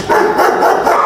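A person imitates a dog barking: a brief, loud, voiced yapping sound made close by.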